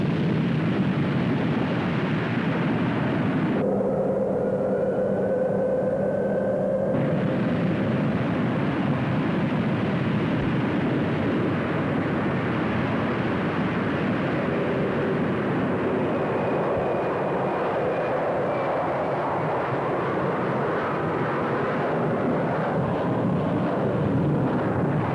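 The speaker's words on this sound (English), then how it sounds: "Once the aircraft is taken off" A propeller-era airliner taking off, its engines giving a loud, sustained, broad roar that rises and holds close by for about twenty-five seconds, with a brief tonal whine partway through and no talking.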